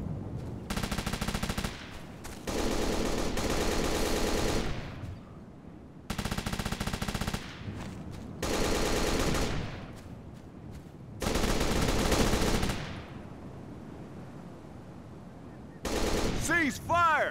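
Bursts of automatic gunfire in Operation Flashpoint Dragon Rising, with several sustained loud volleys separated by short pauses and a few scattered shots at the end.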